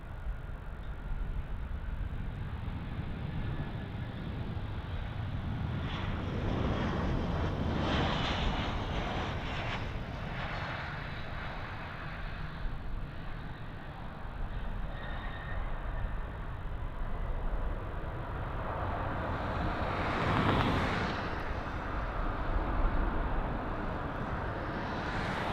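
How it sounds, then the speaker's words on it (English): A Boeing 737 lands on runway 34 at Melbourne Airport, its engines a steady, distant roar rumbling for the whole stretch, with a brief louder swell near the end as it rolls out. "Arriving on runway 34 now, we have the REC 737."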